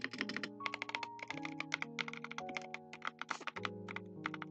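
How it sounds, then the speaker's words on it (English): Rapid typing on a computer keyboard with a deeper, clacky key sound, a steady stream of close, crisp keystrokes over faint background music, with no talking. "I love like the clocky or like the a bit of like deeper voice of my keyboard like rather than those like very clicky ones."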